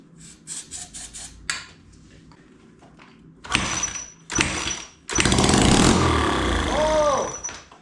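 A Honda XR80R dirt bike, primed with starting fluid, sputters through a few brief firing attempts, then catches and runs loudly with a rough, revving engine roar close by.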